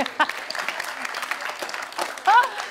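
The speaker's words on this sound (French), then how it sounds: "Louise David, mesdames, messieurs, on l'applaudit!" An audience applauds a contestant at a regional public-speaking contest finale, steady clapping throughout with a few cheers and whoops rising near the end.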